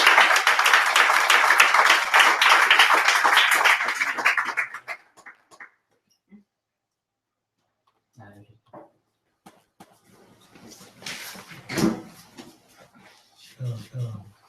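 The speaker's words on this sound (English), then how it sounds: "So if we have a round of applause for" A tech meetup audience claps loudly for a speaker for about five seconds, then the applause stops abruptly, leaving a near-silent room with scattered small noises and a few speech sounds.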